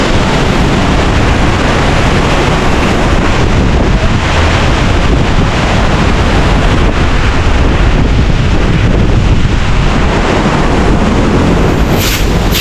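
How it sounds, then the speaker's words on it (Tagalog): Strong, steady typhoon wind from Typhoon Kristine roars and buffets the microphone, a loud continuous rush with no talking. "lakas ng hangin no"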